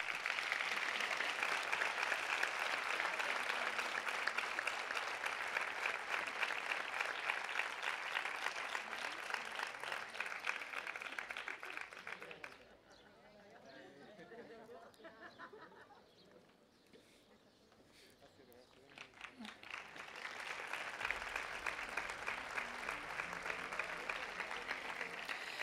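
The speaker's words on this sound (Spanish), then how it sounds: "Un fuerte aplauso para todos." Loud applause from an audience at an education community tribute gala in Isla Cristina, steady for about twelve seconds, dipping to a quieter murmur, then swelling back into full clapping.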